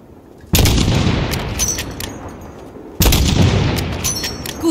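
Two sharp, loud gunshots in Call of Duty: Modern Warfare (2019) ring out a few seconds apart at a 400-meter target, each followed by a long echoing decay, with no voices.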